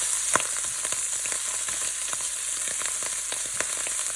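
Shrimp fry in a hot pan in a loud, steady sizzle, with small pops and spits crackling through it the whole time.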